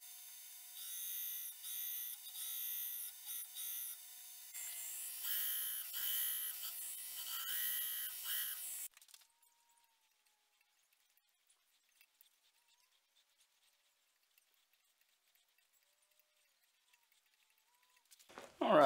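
Steady, loud abrasive grinding rounds off the threaded tang end of a forged Egyptian khopesh, running for about nine seconds before cutting out into near silence, with a brief sharp sound at the end.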